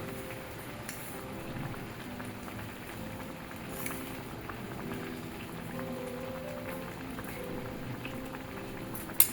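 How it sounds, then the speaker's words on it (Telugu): Tomato pickle mixture boiling in a pan on the stove, a faint, steady bubbling and popping simmer heard alone, with one small knock at the very end. "ఈలోగా మనం చూపించింది అది బాయిల్ అవుతూ ఉంటుంది స్టవ్ మీద."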